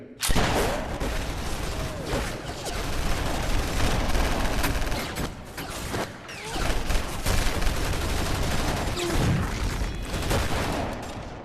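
Several guns fire together in a dense, continuous fusillade, loud and close, with overlapping shots and booms that keep going with only a short lull near the middle.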